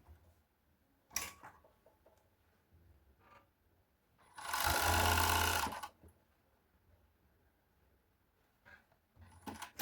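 An overlock serger sews the shoulder seams of a women's shirt in one loud, steady mechanical burst lasting about a second and a half, framed by quiet handling clicks and fabric rustles before and after.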